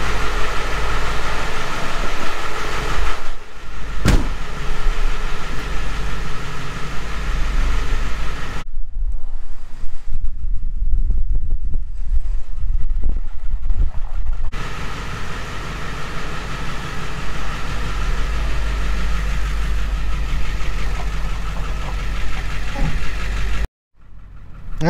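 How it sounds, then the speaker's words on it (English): Ford Powerstroke 6.0 diesel truck with a delete on a test drive, heard from inside the cab as a loud, steady engine drone and road and wind roar that eases for a few seconds midway, then ends abruptly. "let's go for a test drive."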